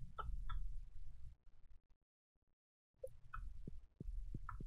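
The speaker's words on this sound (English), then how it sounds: "Come here, chicken!" Chicken clucking in the farming game Stardew Valley, several short bursts of clucks with low game music underneath, a brief silent gap, then more clucks returning.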